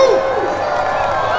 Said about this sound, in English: Let's thank Alan for his service, everyone. A round of applause.